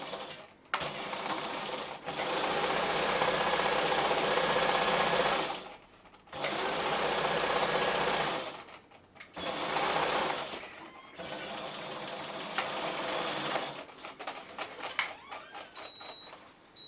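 A sewing machine runs in several sustained bursts, stitching a straight 1 cm bottom seam across a fabric drawstring bag with backstitching at each end, pausing briefly between runs and ending with lighter clicks, with no talk.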